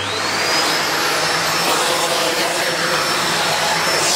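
A SEBO Felix upright vacuum cleaner hoovering, a steady loud motor whine with broadband airflow roar and a high tone, running continuously without pause and close by.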